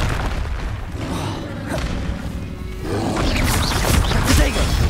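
Confringo and Bombarda spell blasts in the video game Hogwarts Legacy, loud booming impacts and whooshes in dense succession, heaviest toward the end, with a voice calling out under the combat noise.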